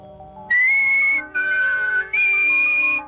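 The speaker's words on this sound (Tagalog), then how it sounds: "Ganito ang sipol." A person whistles a clear, loud tune in three sustained phrases with short breaks between them, with no talking.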